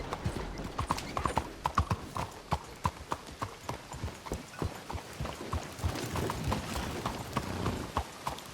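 Horse hooves clip-clop at a steady walking rhythm in Red Dead Redemption 2, with crisp, close hoofbeats over a low background of ambient game sound.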